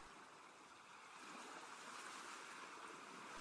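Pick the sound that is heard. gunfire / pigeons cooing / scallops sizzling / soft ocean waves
soft ocean waves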